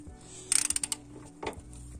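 A ratchet wrench tightens a ball joint nut on a Renault Laguna 2's steering knuckle: a quick run of about eight sharp, close clicks, followed by a single louder clunk.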